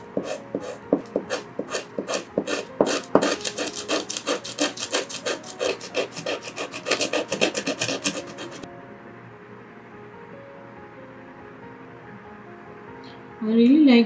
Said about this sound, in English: So I'm just going to sand it down a bit, then paint this part again.